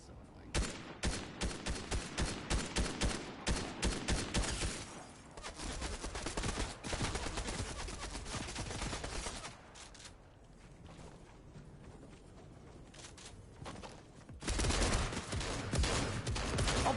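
Rapid gunfire from a Fortnite match crackles in dense, repeated bursts, with sustained fusillades and machine-gun-like rattles that come and go over about seventeen seconds.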